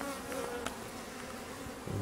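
Honey bees buzzing at an open hive during an inspection, a dense continuous drone of many bees close by, steady and moderately loud with a few faint clicks, no talking.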